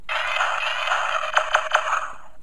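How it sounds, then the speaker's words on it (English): Electronic laser battle effects from a Stealth Force Optimus Prime Transformers toy: a steady, bright synthetic tone carrying rapid zapping pulses, with a burst of sharp laser blasts near the end, loud and close with no talking. "More laser battle sounds."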